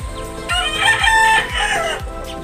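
A gamecock rooster crows loudly and close, one long strained call rising and falling over a steady low rhythmic thump, with no talking.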